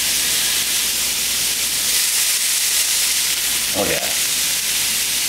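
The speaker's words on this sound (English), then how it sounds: "You hear the sizzle" Loud, continuous hissing sizzle of burger patties cooking on a grill, with a brief spoken exclamation near the end.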